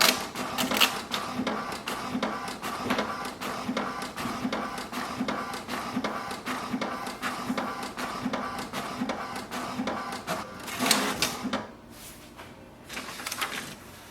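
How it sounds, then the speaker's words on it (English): An HP Deskjet 2942 inkjet printer runs through an alignment page, its print head shuttling back and forth in a steady rapid mechanical rattle with whirring feed, close and continuous, easing off near the end. "Wait for the printer. It will print the alignment page."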